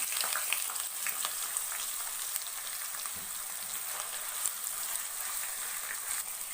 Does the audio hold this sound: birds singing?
no